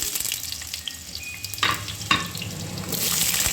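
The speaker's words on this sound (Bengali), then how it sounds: "কড়ায় তেল দিয়ে দিচ্ছি, আলুটা ভেজে নিচ্ছি" Potatoes frying in hot oil in a heated wok, a steady broadband sizzle with a couple of sharper bursts midway, as if stirred, growing louder toward the end.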